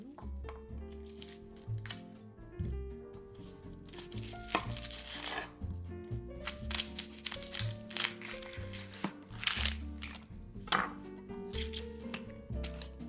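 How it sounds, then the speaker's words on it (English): Onion being rough chopped on a board with a knife: irregular close-up thuds and crisp crunchy cuts in an uneven rhythm, with a few louder strikes between softer slicing. "we're just going to rough chop it because we're going to roast it"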